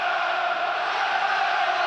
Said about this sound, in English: Listen to the home crowd now. Plenty of noise.